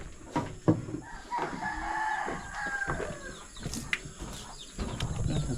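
Chickens clucking and a rooster calling among farmyard background noise, with a few sharp knocks and scattered bird sounds throughout.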